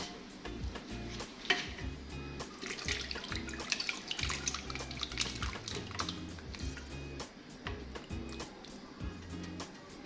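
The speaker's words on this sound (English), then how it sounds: "And then I'll just sieve it." Thick soaked biriani juice mixture being sieved in a kitchen, with water trickling and dripping through the sieve alongside clinks and stirring against a bowl, steady and close throughout with no talk.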